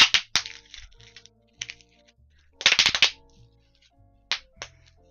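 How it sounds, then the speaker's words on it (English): Bubble wrap is popped by hand in quick sharp bursts: clustered crackling snaps come in several irregular groups with quiet gaps between them, close and crisp, with no talking. "people definitely pop bubble wrap for ASMR"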